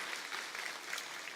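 A church congregation applauding the foot-volleyball team during a Sunday service, a faint, steady patter of many hands heard from a distance.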